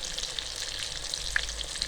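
Raw minced meat patties (kacche keeme ki tikki) sizzle steadily in hot oil in a pan, a continuous bright frying hiss with small pops and crackles scattered throughout, close and alone with no voices.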